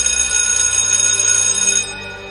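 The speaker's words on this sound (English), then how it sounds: "That's annoying ringtone." A phone ringtone plays loudly as a bright, sustained electronic ring for nearly two seconds, then cuts off, leaving quiet background.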